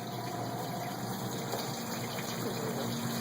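Water sprays and gushes forcefully into a Maytag washing machine basket under the steady whine of a pump, a continuous close rush of filling liquid.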